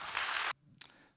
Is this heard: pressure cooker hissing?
no